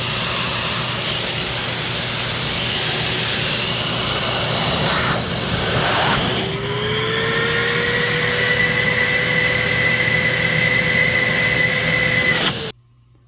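A Lindhaus Healthcare Pro Eco Force vacuum cleaner runs with a loud, steady motor whine during an airflow test, with a brief rushing shift midway and a steady tone before it cuts off.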